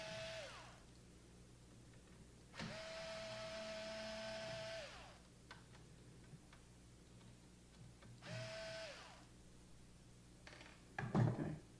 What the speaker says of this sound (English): And then you have two sheet metal screws on the outside here we have to remove.